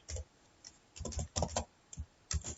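Typing Python code on a computer keyboard, heard as short bursts of close, quiet key clicks with brief pauses between them.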